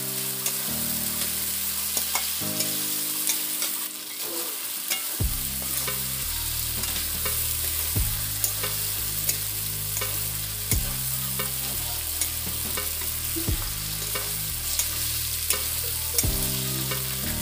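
Chicken curry meat and potatoes frying together in a pan, a constant sizzle under regular scraping and clanking strokes of a stirring spoon, close by with no talking.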